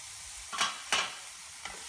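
Onions sautéing with garlic and curry leaves in a pan for a Tamil-style palak chicken give a steady soft sizzle, broken by two or three quick scraping stirs close by, with no voices.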